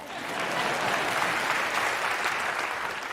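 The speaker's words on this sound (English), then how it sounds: "Oh yeah, you can clap that." Sustained applause from a talk audience, a dense, even wash of many clapping hands that swells slightly and holds steady throughout.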